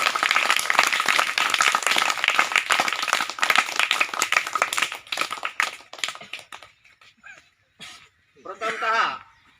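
Applause from a crowd at a school function welcoming guests, dense clapping for several seconds that thins into scattered claps and fades, with a voice speaking at the end.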